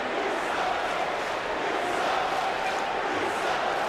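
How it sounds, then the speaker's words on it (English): A dense arena crowd in the WWE 2K19 wrestling video game, set at a show in Mexico, keeps up a steady, loud, unbroken roar with no clear voices standing out. "It's a crowd here in Mexico not really digging The Miz here tonight."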